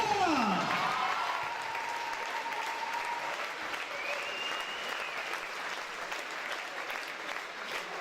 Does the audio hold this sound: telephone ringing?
no